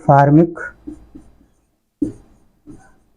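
Chalk or marker strokes on a classroom board during a Class 10 chemistry lesson on acids, bases and salts; a brief voiced sound opens the clip, followed by a few short, faint scratching bursts separated by quiet gaps.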